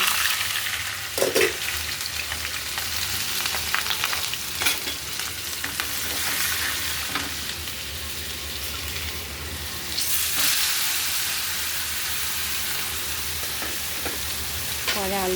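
Shredded cabbage frying in a pan for a home-cooked vegetarian meal, a steady close sizzle broken by repeated scraping stirs of the spatula, with no talking.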